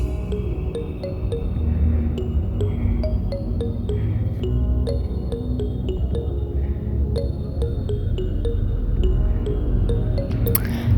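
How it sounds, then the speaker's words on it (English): A spoon stirs hibiscus zobo drink in a container, making steady liquid swishing with repeated small ringing clinks of metal against the vessel, close and continuous throughout, with no voices. "I'm just going to stir to ensure everything blends in together."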